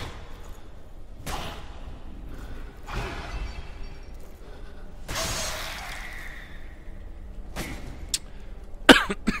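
A man coughs several times at spaced intervals, each a short harsh burst against a quiet background, with a louder sharp crack near the end.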